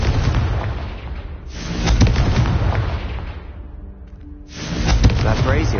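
A Confringo blasting curse detonates in Hogwarts Legacy, two heavy booming blasts about three seconds apart, loud and close, with a low rumbling tail between them.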